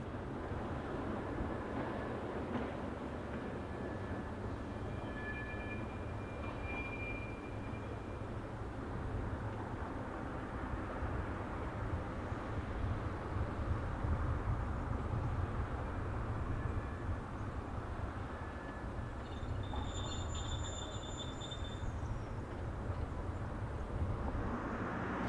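Two French diesel locomotives, 63933 leading 67463, rumble at the Sotteville maintenance depot, a steady low engine drone holding throughout at moderate distance, with faint high whines surfacing now and then.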